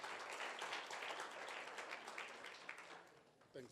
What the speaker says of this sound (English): Please give a round of applause to Mike Mabasa